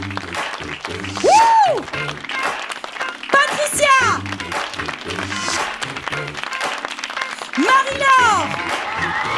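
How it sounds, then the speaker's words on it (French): Audience applause greets performers being introduced by name at a stage show about family social workers, bursts of clapping and cheering rising and falling under continuous loud announcing and calls from a presenter. "Avec les applaudissements, Magali."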